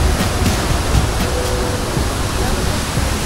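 Dhangar waterfall in Badlapur in heavy rain, with a steady, loud roar of rushing water that stays continuous and unbroken throughout.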